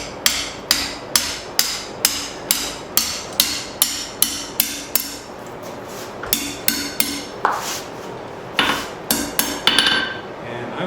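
Hammer blows on forged metal while straightening a bird feeder hanger, a steady run of about twenty sharp ringing strikes, close and loud, turning irregular near the end.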